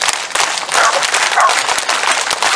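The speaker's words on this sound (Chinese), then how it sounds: "热情的掌声，我们用一个爱的鼓励" An audience applauds at an outdoor Taiwanese-language concert in Linkou, New Taipei, with dense, continuous clapping that stays loud and steady throughout.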